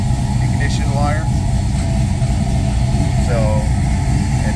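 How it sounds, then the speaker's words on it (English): An LS-swapped Chevelle engine idling with a steady, loud low rumble that holds evenly throughout, while a person talks over it. "Car starts right up."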